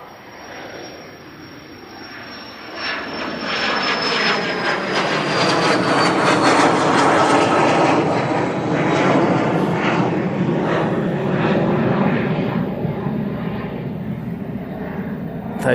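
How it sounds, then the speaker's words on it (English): A Cessna Citation business jet takes off at Manchester Airport, its engine roar swelling loud and broad after a quieter start and holding as a rumbling jet noise with a fading high whine. "Cessna Citation off to Bordeaux."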